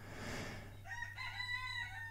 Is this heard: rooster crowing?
yes